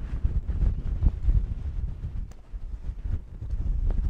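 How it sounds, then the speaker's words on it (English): Strong wind blows across the deck of a moored catamaran sailboat, a close, continuous low buffeting roar with gusts that rise and fall over a few seconds. "it's very windy up here today"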